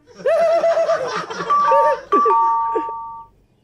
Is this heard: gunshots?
no